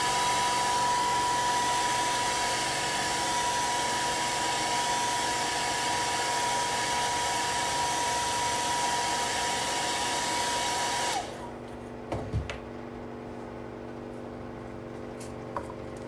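Hair dryer blowing steadily on red paint while decorating a Christmas berry and vine door hanger, a loud continuous whoosh with a faint whine that cuts off abruptly, leaving a quiet room with a few small clicks.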